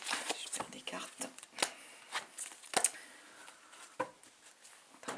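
Tarot cards are handled and dropped close by in a series of quick, irregular papery slaps and flicks, with soft rustling between them in a quiet room.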